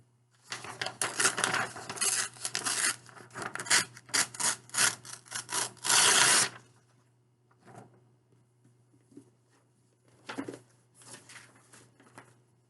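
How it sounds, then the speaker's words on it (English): A sheet of paper is torn into two pieces: a run of loud, scratchy ripping bursts over about six seconds, then quieter, scattered rustles and handling noises, with no talk. "I want you to rip the paper into 2 pieces, right where that line is."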